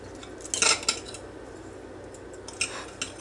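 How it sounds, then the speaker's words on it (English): A knife cuts into grilled beef sirloin tip kabob meat on a plate, two or three short scraping strokes with crisp metallic clinks of cutlery against the dish, close and otherwise quiet. "Let me cut into the meat."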